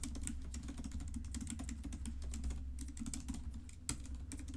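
Rapid, irregular keystrokes clatter on a computer keyboard as Kotlin code is typed, close and steady over a low background hum, with no talking.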